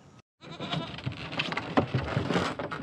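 Several goats bleat over one another in a noisy, restless jumble, loud and close, with shuffling and scuffling around them.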